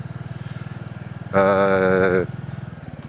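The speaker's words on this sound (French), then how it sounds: "Moteur monocylindre, donc refroidi par air" An air-cooled single-cylinder Royal Enfield Bullet 350 motorcycle thumps at a steady idle, revs briefly with a louder drone, then drops back to its rhythmic putter.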